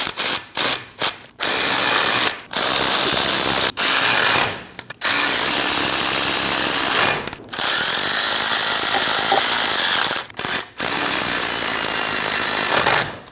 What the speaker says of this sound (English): Go around and snug down all of the bolts. We want this to sit nice and square, so go back and forth when you're tightening it down.